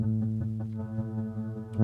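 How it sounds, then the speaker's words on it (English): A sustained, harmonically rich modular synth tone from a NiftyKeyZ modular case and keyboard, with clock-timed reverb blend pulsing rhythmically through it and swelling slightly at the end, without any speech. "so that's creating that sort of clocked effect, which is basically affecting the blend control"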